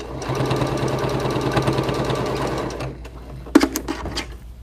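A sewing machine top-stitching a fabric face mask runs steadily and close for about three seconds, then stops, followed by a few faint handling clicks.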